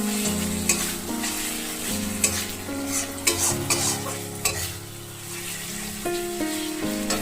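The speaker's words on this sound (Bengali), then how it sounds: "আমরা মশলাটার ভিতরে অ্যাড করে দেবো কুচিয়ে রাখা টমেটোগুলো এবং খুব সুন্দর করে নেড়ে চেড়ে নেব" Chopped tomatoes stirred into sizzling masala in a frying pan for a soybean and potato curry, with steady frying hiss, clustered spoon scrapes and clacks throughout, and no talking.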